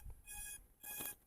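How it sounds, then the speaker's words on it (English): A RUKO U11MINI drone's finder alert gives two steady, fairly faint electronic beeps, each about a third of a second long, separated by a short pause. "you see, it's starting to beep."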